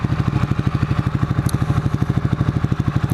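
A 2015 Ducati 899 Panigale engine idles steadily on its own, a close, even rhythmic thrum of firing pulses with a faint mechanical clatter and no talking.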